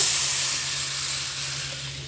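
Rasam poured into a hot pan of tempering makes a loud, steady hissing sizzle that fades gradually, close by with no talking.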